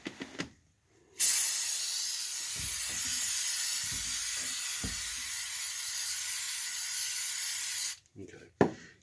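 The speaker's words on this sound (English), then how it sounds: "So now, take my brake parts cleaner, clean it off." Brake parts cleaner sprayed onto the lower axle of a 1992 Dodge D150 truck: one long, loud, continuous aerosol hiss of about seven seconds, with a few handling knocks before and after.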